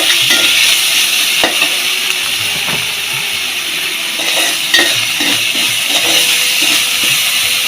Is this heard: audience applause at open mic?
no